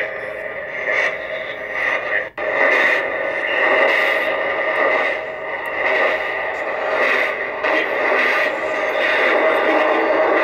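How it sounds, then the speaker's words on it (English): Odd radio-like signal tone sustained at a steady level with bright harmonic bands and a brief dropout near the middle, reviewed as paranormal evidence; no talking. "this crazy, crazy signal tone comes through."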